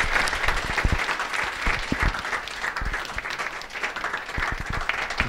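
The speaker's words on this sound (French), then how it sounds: "C'est le professeur Amadou Mandé que je vous demande d'applaudir" Audience applauding a guest, a professor, at a small comedy stage event in Burkina Faso: dense, sustained clapping from a crowd, loud and steady throughout.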